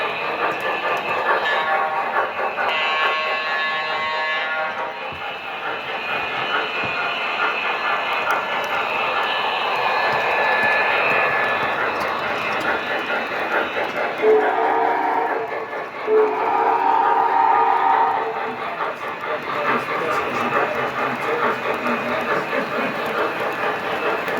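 Lionel 3-rail toy model trains from a large collection run continuously with a steady mechanical whir and rolling clatter, the motors humming close by, with brief whistle-like tones rising midway.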